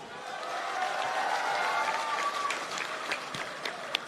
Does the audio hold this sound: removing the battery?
no